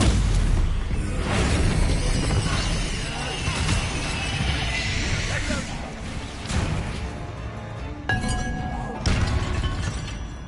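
A Confringo explosion spell goes off in the video game Hogwarts Legacy with loud booming, crackling blasts and shattering crashes that repeat through the fight, under voices speaking.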